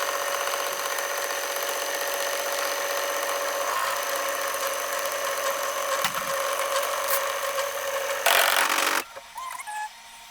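An embroidery machine stitches a zipper pouch in the hoop with a steady mechanical hum and rapid needle chatter that runs continuously, then briefly grows louder and stops near the end.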